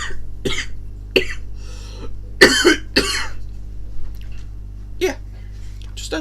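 A person coughs repeatedly after a drink, several sharp, close coughs and throat-clearing bursts spaced unevenly over a quiet room hum.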